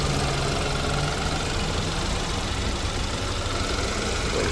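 A 2014 BMW GT's engine idles steadily at close range, a continuous low mechanical hum with a faint ticking texture, unchanging throughout and with no voices.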